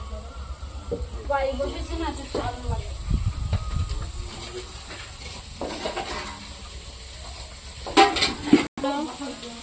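Temple bhog food cooking for a Radha Madhav offering, soft sizzling and stirring with scraping of utensils and occasional clanks, under intermittent nearby talk, with a sharp metallic clatter near the end.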